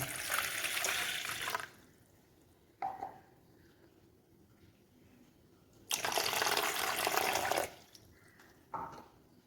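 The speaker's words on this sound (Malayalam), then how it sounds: "ഞാനിവിടെ ഒരു ഒന്നര ഗ്ലാസ് അളവിൽ വെള്ളം ഒഴിച്ചു കൊടുക്കുന്നുണ്ട്" Water pours and splashes into a container in two separate bursts, with quiet pauses and small knocks between them.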